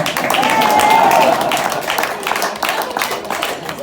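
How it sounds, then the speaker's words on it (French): Audience applause and cheering for a new contestant at a chili pepper eating contest in a brewery in Evreux, a dense, steady wash of clapping that stays loud throughout with voices mixed in. "mais on peut l'applaudir."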